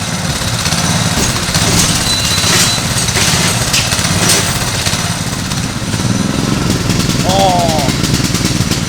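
A GMC K20 truck engine revs hard and roars loudly and steadily for several seconds, rough and uneven while still choked, with a brief squeal near the end.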